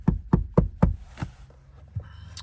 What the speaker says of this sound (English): So I kept knocking.